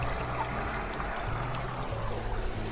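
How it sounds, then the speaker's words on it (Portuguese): Water flowing along the channel of a traditional watermill, with a second mill further on, makes a steady, broad rushing wash that holds even and continuous throughout, with no voices over it. "Estamos a ver a levada de água e lá ao fundo o segundo moinho."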